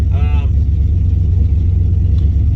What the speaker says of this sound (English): Engine runs really smooth.